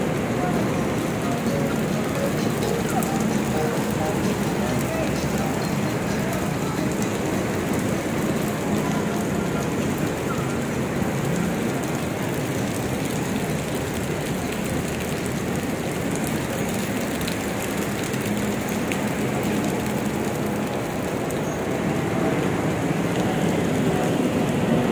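Heavy rain pouring steadily during a flood in Marikina near a bridge, a loud constant hiss and patter with no break throughout, close and enveloping.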